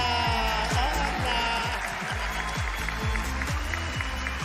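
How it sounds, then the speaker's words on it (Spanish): Studio audience applause on a talent show greeting ventriloquist Martín and his puppet Humberto, a steady wash of clapping mixed with a loud, pulsing musical fanfare underneath. "Fuerte el aplauso para Martín y Humberto"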